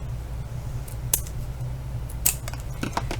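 Two or three sharp, close scissor snips cut the round ends off a small crafted mini fence embellishment, with a steady low hum filling the background.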